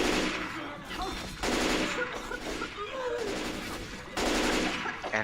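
Bursts of rapid gunfire in Left 4 Dead 2 come in several loud volleys with short gaps between them, and game sounds mix in beneath.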